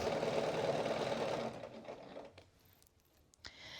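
A sewing machine stitches a vest seam in dark thread, a dense close whirring run that stops after about a second and a half, followed by quieter handling noises.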